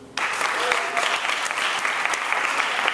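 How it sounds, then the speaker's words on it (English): A conference audience applauds a speaker introduced to talk on nuclear fusion, dense sustained clapping that starts abruptly after a moment of quiet and continues evenly and loudly to the end. "So give a round of applause to Andrew."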